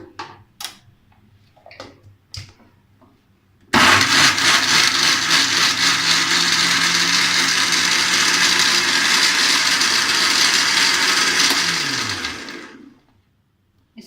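A countertop blender whirs loudly and steadily for about eight seconds as it blends falsa berries with a little water, starting abruptly after a few soft kitchen knocks and winding down at the end.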